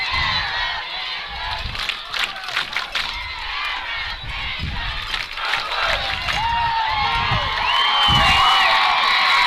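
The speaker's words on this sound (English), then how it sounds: "This entire crowd is yelling," A high school football crowd at Ada versus Harrah yells and cheers in a loud, continuous roar, with sharp bursts of shouting and whoops rising and swelling toward the end.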